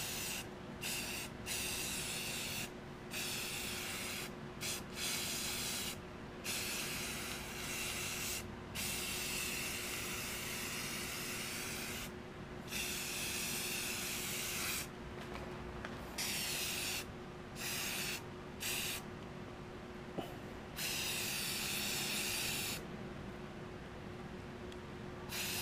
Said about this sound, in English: Let's spray this some more.